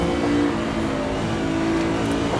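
A tonal F1 engine drones steadily at high revs as the car runs flat out through the gears in Assetto Corsa, in Gilles Villeneuve's ideal car setup. The engine is loud and close and steady, with no clear break for a shift.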